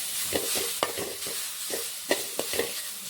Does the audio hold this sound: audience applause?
no